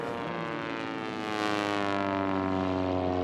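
A racing biplane at national championship air races roars past with a loud, steady propeller drone that builds in strength and holds close and strong, rich in harmonic engine tones.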